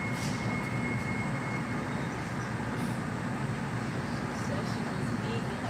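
Steady rumbling of a Mattapan line trolley ride toward Ashmont, continuous wheel and motor noise heard from inside the car with a faint high whine, even and unbroken throughout.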